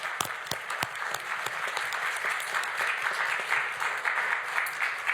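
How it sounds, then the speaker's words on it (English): A crowd claps at a U.S. House event, continuous and fairly soft, with a few sharper close claps standing out early. "So a round of applause for all these folks and all the hard work."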